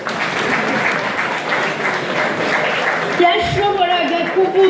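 An audience at a speech claps in sustained, loud, dense applause, then the clapping thins out as a voice begins speaking over it.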